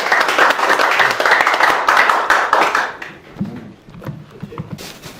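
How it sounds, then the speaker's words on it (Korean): An audience claps in a broad burst of applause after a lecture at a Saturday special talk, loud and dense for about three seconds, then thinning into scattered claps and soft background noise. "강의해 주신 박사님께 다시 한번 감사의 박수 올려드리겠습니다."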